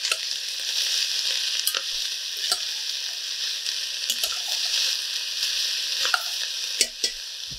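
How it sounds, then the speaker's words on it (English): Onions seasoned with salt and pepper cook in a pot for onion soup, giving a steady hissing sizzle, with occasional sharp scrapes and knocks as a spoon stirs them. "Let's give it a quick stir just to get that salt and pepper around."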